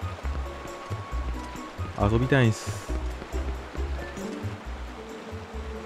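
Steady rushing river water at Zora's River in Zelda: Twilight Princess HD flows under looping game music and a short spoken line.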